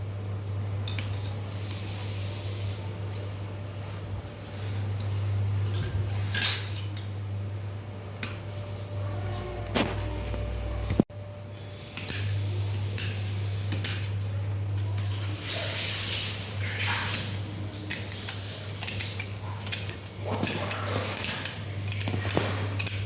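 Suit fabric is cut with scissors against a steady low electrical hum, with scattered snips, metallic clicks and clinks from the blades and table, close and intermittent, without talk.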